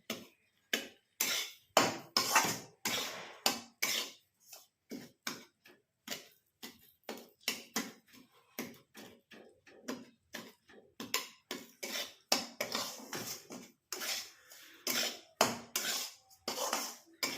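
Cashews and almonds roasting in ghee in a pan, stirred steadily so the nuts give off a rapid, uneven clatter of sharp clicks and rattles against the metal, close and fairly loud, with no talking.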